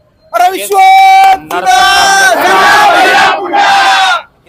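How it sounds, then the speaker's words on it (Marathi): A large crowd of supporters erupts in loud chanting and cheering in city streets after a legislator's election win, with sustained roaring shouts in several waves, close and very loud. "शहरामध्ये त्यांच्या विजयानंतर ठिकठिकाणी असा जल्लोष करण्यात येत आहेत"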